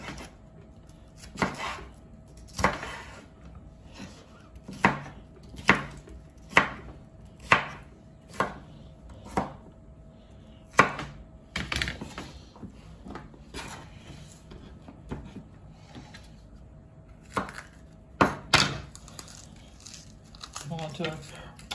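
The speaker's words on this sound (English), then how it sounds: "And now I'll cut my bell pepper" A knife chops a bell pepper on a cutting board while Haitian epis seasoning is prepared: a series of sharp, close, irregularly spaced cuts that grow sparser, then a few more cuts and faint handling noises near the end.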